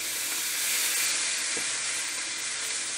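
Steak sears in a hot, smoky pan with a steady hissing sizzle and faint crackle, holding constant throughout and heard alone, with one brief soft knock midway.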